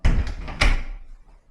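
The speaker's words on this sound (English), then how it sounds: "had to sand this door down so it closes now" A wooden cupboard door under a kitchen sink, sanded down to fit, swings shut with a firm knock, followed by a second thud and a short fading rattle, close and loud.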